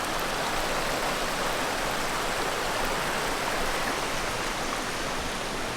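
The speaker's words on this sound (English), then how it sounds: "It's a nice little stream" A small stream flowing across a paved trail water crossing in the mountains, a steady, even rush of running water close by, alone with no talking.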